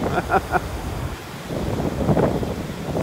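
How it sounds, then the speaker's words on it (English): Strong wind blows across a beach in North Naples, Florida, buffeting a camera gimbal with loud, rumbling gusts over distant surf, and a brief voice is heard near the start. "the wind just got the gimbal"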